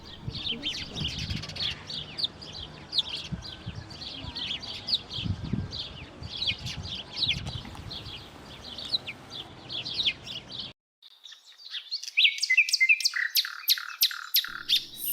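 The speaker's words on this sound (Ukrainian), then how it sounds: "Горобець." A flock of house sparrows keeps up dense, busy chirping at close range with low rustling and thumps beneath, then after a short break returns as sharper, brighter cheeping.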